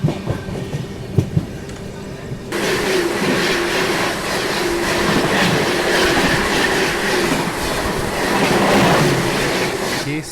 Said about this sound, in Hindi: ये सियालदह राजधानी थी।